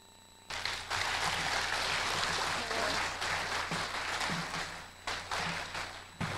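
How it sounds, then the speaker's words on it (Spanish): An audience at a school induction course for parents and students breaks into sustained applause, many hands clapping steadily for several seconds before tapering off. "para quien pido un fuerte aplauso"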